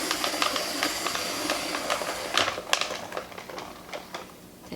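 A hand-cranked apple peeler stripping the skin from an apple for homemade applesauce, giving a steady, close scraping hiss with quick clicky ticks of the mechanism, no talking.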